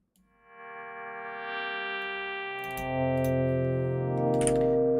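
Shimmer reverb from a Max 9 ABL DSP device, sustained layered tones that swell and build in loudness over several seconds, with faint clicks scattered through the wash.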